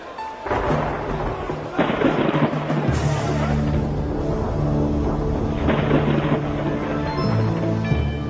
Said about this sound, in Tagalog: Bakit napakalakas ng kidlat at kulog?